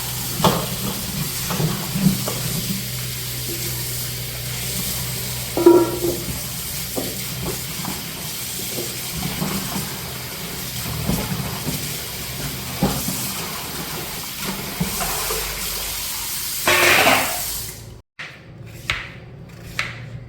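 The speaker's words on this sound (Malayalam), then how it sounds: "നമുക്കത് നല്ലപോലെ കഴുകി എടുക്കാം" Tap water running steadily while papaya is washed in a home kitchen, a continuous hissing stream broken by small knocks and handling sounds before it cuts off, leaving a few faint clicks.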